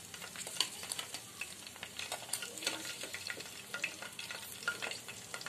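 Chicken pieces for restaurant-style chilli chicken frying in hot oil in a pan, a constant crackling sizzle broken by repeated scraping stirs, close and fairly quiet, with no voices.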